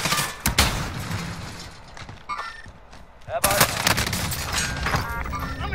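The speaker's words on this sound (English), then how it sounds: "Stun grenade out." A stun grenade detonates in a shooter game, a loud close blast followed by heavy gunfire bursts and chaotic combat noise, with voices calling out over it.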